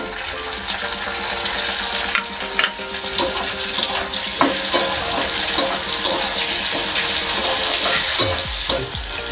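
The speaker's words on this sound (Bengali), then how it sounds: "পেঁয়াজটা অল্প একটু ভেজে নিয়ে এই টমেটো কুচিগুলো দিয়ে দেবো।" Onion and chopped tomato frying in a pan for a Bengali egg and potato curry, a loud, steady sizzle close up with repeated scraping stirs of a spatula and no talking.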